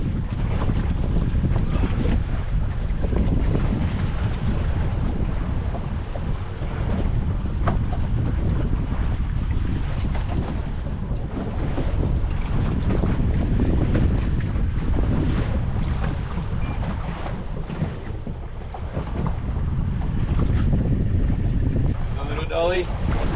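Strong wind buffets the microphone aboard a small fishing boat slow trolling on a lumpy sea with a big swell, a steady loud roar of wind and water throughout, with waves slapping the hull.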